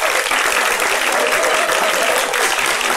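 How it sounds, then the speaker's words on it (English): A studio audience at a talk show applauds, dense, loud, steady clapping from many hands lasting the full few seconds with no pauses. "Cause for applause now."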